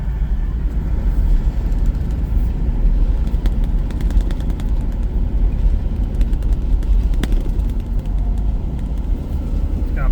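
A Peugeot 504 left parked since 1987 runs and drives on a windy day with worn-out shocks, giving a dense, rough low rumble, close and unbroken, with scattered sharp ticks and rattles over it.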